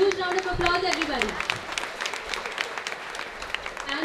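Audience applause at a management institute inauguration ceremony, a loose patter of clapping throughout, with a voice heard over the start.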